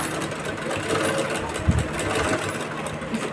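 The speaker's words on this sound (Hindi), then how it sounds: "इस पे सिलाई लगाते जाना है आपको।" Sewing machine running steadily while stitching a blouse, a continuous close mechanical whir with a brief louder bump partway through.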